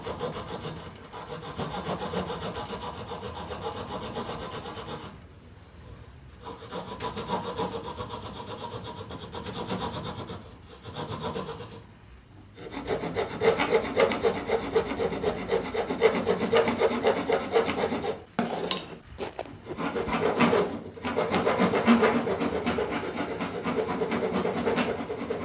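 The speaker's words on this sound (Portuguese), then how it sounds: "Aí você faz com o lado reto da grossa." Wood is worked with the flat side of a rasp while shaping a rustic wooden drawer in a woodworking shop. Repeated rough rubbing and scraping strokes run close and steady, with brief pauses between bursts and no talk.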